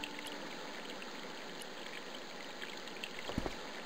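Water runs from a garden hose in the Broken Sword video game, a steady rushing trickle that holds throughout, with a few splashy bursts near the end.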